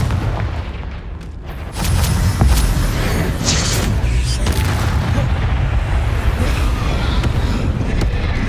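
Blasting-spell explosions in the fantasy video game Hogwarts Legacy erupt in loud, rumbling booms that layer over one another, followed by continuous crackling combat noise.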